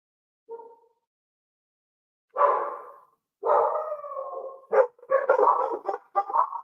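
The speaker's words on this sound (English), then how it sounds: "why do dogs bark at everything?" Dog barking in a series of sharp, fairly close barks and yips, one short faint bark first, then longer bursts growing more frequent, with quiet gaps between.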